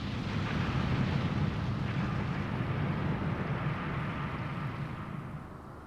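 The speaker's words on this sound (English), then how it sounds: "the destruction caused by the explosion that spread from the altar" A loud, sustained roaring rumble from an explosion at a chapel altar in the Suikogaiden game, a dense broadband blast that holds steady for several seconds and then slowly fades.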